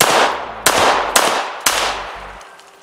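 Three loud, close gunshots ring out about half a second apart after an initial blast, each followed by a decaying echo that fades to quiet.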